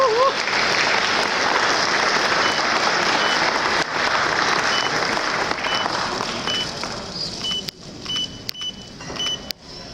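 Warm audience applause at a plaque presentation during a national day reception, dense and loud crowd clapping that holds steady, then thins toward the end with a few scattered claps and brief high tones.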